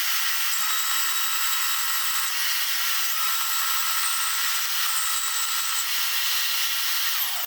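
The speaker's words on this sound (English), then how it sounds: "Let's bring this over to the portable bandsaw." A portable bandsaw cuts through square metal stock for a welded shelf project, giving a steady, close, high-pitched grinding whine that holds without a break from start to finish, with no voices.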